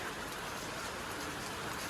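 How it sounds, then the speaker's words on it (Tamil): Steady rain falls during a road trip toward snowy Tawang, a continuous close hiss of drops on surfaces with no breaks. "மக்களே மழை நல்லா பெய்யுது"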